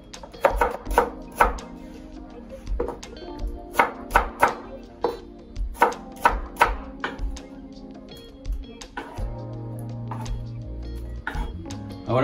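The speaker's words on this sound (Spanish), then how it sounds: "Y vamos cortando cuadraditos." A knife chops raw potato into small cubes on a cutting board, a run of crisp, evenly spaced taps close up, then a brief lull with a low hum.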